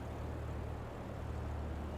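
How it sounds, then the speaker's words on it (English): A propeller airplane comes in to land in a flight simulator game, its engine a steady, unbroken low drone that holds at an even level. No other sounds are present. "I'm landing a plane."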